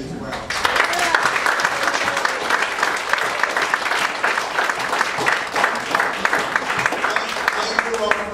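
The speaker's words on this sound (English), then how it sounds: "we want to give them a hand as well" Sustained audience applause for a stage crew at the end of a play, dense and steady clapping from a full room lasting several seconds.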